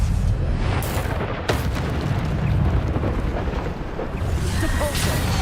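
Descendo spell impacts in the video game Hogwarts Legacy, loud booming blasts and crashing rumble in quick succession with dense battle noise throughout.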